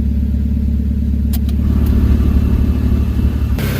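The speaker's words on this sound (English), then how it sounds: "You want to start the engine." A car engine runs steadily with a loud, close low rumble that carries throughout, alongside a few brief clicks and a shift in sound near the end.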